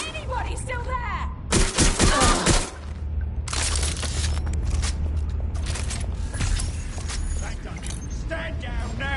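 Gunfire in Watch Dogs Legion: loud bursts of rapid automatic shots come in several dense volleys, with mechanical clanks and creaks in between and faint game voices underneath.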